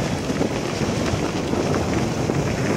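Cold wind rushes over the microphone while cycling along the Edersee shore at just above freezing, a loud, constant buffeting roar with no voices.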